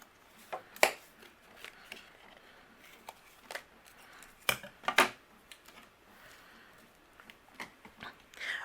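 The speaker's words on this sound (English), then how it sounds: "we're just going to use some scissors and trim away the excess." Scissors trim excess patterned scrapbook paper in a few short, crisp snips and rustles, close and quiet, spaced irregularly with soft handling noise between them.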